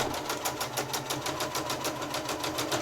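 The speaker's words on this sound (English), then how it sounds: "I'm going to take a couple of stitches and I'm going to back stitch." A sewing machine stitches fabric for a zipped, lined quilted tote bag, running steadily with a fast, even rhythmic whir of needle strokes, close and continuous, first forward stitches then a back stitch.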